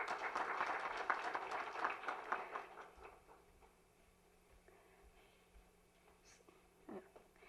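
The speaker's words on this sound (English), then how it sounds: "Can we have a huge round of applause," A conference audience at a national climate summit and awards ceremony applauds for a power finance company director; dense clapping fills the first few seconds, then thins out and fades to a quiet room.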